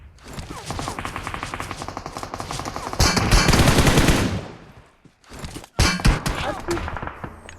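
Gunfire in the mobile game PUBG Mobile comes as rapid automatic bursts with metallic clangs and impacts, loud and close, followed by a heavy flurry and then scattered single shots.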